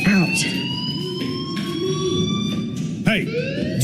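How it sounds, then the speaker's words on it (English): A fire alarm rings steadily in the video game Life is Strange, a loud continuous electronic tone that holds throughout while a voice speaks over it partway through. "Hey, do you hear that fire alarm?"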